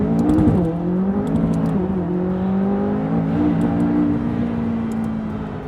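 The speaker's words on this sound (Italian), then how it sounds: "procedura launch control, telaio e powertrain in track, tasto active, tasto launch, piede sinistro sul freno, giù tutto" A McLaren 570S turbo launches hard under launch control, its engine note climbing through quick upshifts with brief dips, a loud, steady, close interior roar with no talking over it.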